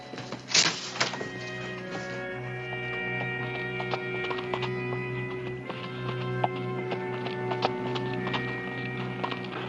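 Horse hooves clip-clop steadily as a rider approaches across a Western frontier scene. The hoofbeats are close and clear, with a thud at the start, over a sustained musical background.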